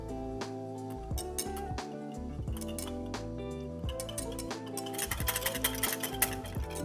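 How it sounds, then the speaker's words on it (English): A whisk clinks rapidly against its container while ginger miso salad dressing of miso, oil and vinegar is beaten together, a steady, close metallic tapping that grows busier near the end, with music playing underneath. "Now I'm just gonna whisk this together to dissolve the miso and combine the oil and vinegar."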